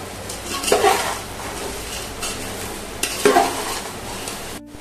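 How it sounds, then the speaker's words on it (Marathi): Cornflakes poha chivda is tossed through a spice mix in a pan, making two bursts of dry rustling and scraping over a low steady sizzle, close and moderately loud. "मसाल्यामध्ये हे चांगले पोहे हलवून घ्यायचे"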